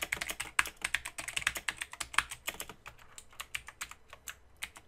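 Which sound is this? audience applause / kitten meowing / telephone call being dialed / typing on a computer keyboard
typing on a computer keyboard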